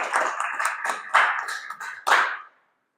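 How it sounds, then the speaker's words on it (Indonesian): Students in a lecture give a short round of applause for a correct answer, a brief burst of close hand claps lasting a couple of seconds before stopping abruptly into silence. "Tepuk tangan dulu"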